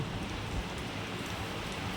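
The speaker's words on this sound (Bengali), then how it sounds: "যেতে বৃষ্টি পড়ছে, ছাতা ফুটিয়ে যাচ্ছে।" Steady rain falling, a dense even patter with no voices, close and moderately loud throughout.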